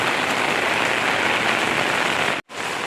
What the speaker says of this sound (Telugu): చూడండి వర్షం ఎలా పడుతుందో ఫుల్గా పడుతుంది వర్షం